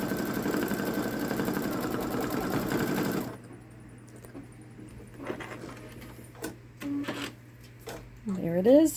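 A Babylock Solaris Vision embroidery machine stitches a patriotic gnome design with a dense, rapid, even whir for about three seconds, then stops, leaving a low hum while a person talks.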